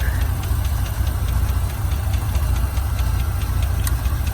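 A 3.0 V6 in a wrecked Ford Ranger with a 5-speed runs at a steady idle, close and loud, with a low rumble and a faint regular ticking throughout.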